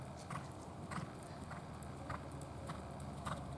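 Horse hooves cantering in a riding lesson, a soft rhythmic clip-clop of repeated footfalls on arena footing, fairly faint and steady with no talking.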